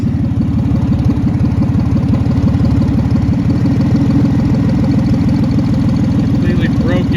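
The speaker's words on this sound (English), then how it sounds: "You hear that nasty exhaust leak?" A Ford Mustang engine idles with an exhaust pipe completely broken and sheared off after the header. The leak gives a loud, steady, raw chuffing rumble that runs unbroken from start to finish, with no voices.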